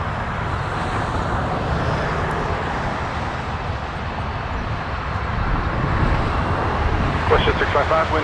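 A WestJet Boeing 737-700 departs runway 23 at Toronto Pearson, its jet engines producing a steady, broad roar that swells slightly toward the end, with a voice talking over it.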